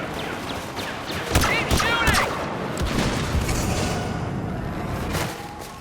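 Rapid blaster fire in a Star Wars Battlefront battle, a dense volley of loud crackling shots and booms over constant battle noise, with voices shouting under the fire.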